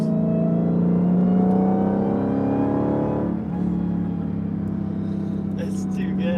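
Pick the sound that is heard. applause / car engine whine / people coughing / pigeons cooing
car engine whine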